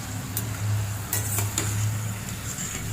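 Banana wafer slices frying in hot oil, a soft steady sizzle and bubbling close by, with a few light clinks of a utensil against the pan.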